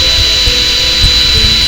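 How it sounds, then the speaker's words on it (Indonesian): Power drill spinning sandpaper against the surface of an 18650 lithium battery cell, a steady, loud whirring rub with faint rhythmic scraping and no voices. "Kita menggunakan bor ini bukan untuk melubangi, tapi untuk memudahkan kita mengamplas permukaan baterai ini"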